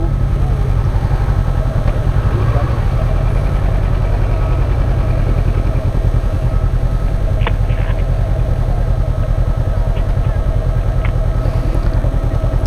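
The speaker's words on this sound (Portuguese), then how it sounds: "Eu vou afastar a moto, tá? Vou botar ali na frente." A Honda CB500X motorcycle engine idles steadily while the bike is being moved, a loud, close, continuous low rumble that holds even throughout with no revving.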